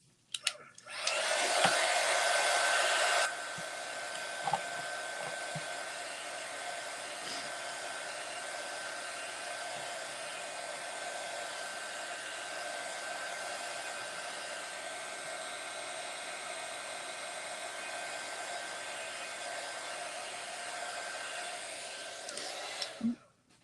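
A hair dryer blows steadily for over twenty seconds while a lavender DIY craft is dried, starting with a louder burst for a few seconds and then settling into a continuous, even whir close by.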